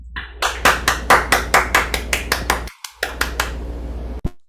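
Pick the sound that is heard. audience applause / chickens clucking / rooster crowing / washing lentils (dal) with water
audience applause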